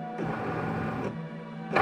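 A Cricut Maker cutting machine running a label-cutting job on a mat, giving a steady mechanical whir and hum with a short pause and resumption, close and even in level, no talking.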